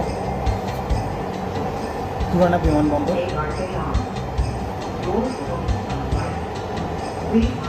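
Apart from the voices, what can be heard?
Dhaka Metro Rail train running between stations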